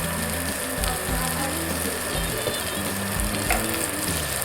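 Minced beef patty filling fries in white oil in a pan, giving a continuous hiss with some clattering and a low hum underneath, with no talking.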